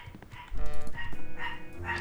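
Several dogs bark in rapid bursts at close range, a run of sharp, repeated barks with faint keyboard typing behind them.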